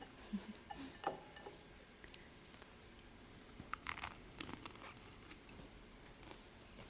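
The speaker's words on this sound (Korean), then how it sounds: "사워도우에 어제 만든 후무스 올리고 치즈 갈아서 아침 먹어요" Quiet close-up crunching and chewing of sourdough bread topped with hummus and grated cheese, with soft irregular bites and faint clinks of dishware between them.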